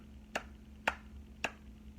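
Three sharp, evenly spaced claps ring out one by one, faint and a little distant, over a quiet low hum.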